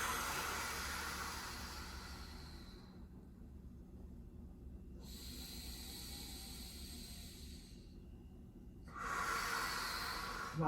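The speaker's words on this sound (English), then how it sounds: "Consistent breathing." Steady, hissing breaths from someone holding a core exercise with the pelvis tilted upward, close and clear, with long exhales and inhales alternating in an even rhythm.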